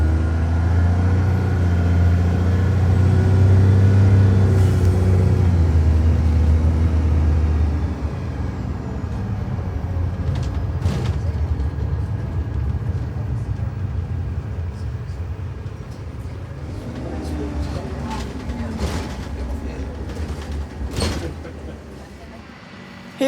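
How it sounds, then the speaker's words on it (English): A single-decker Optare Solo SR bus idles loudly on a high street, then its engine note drops and fades as it pulls away, with street noise and a few distant clicks afterward. "Here is this Morebus Opta Solo SR leaving the top of the high street"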